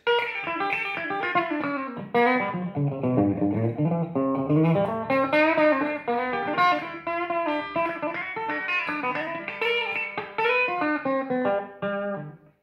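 A clean Cort KX Custom electric guitar on its humbucker pickup strums and picks chords with a warm, full tone, ringing steadily at close range with no talking.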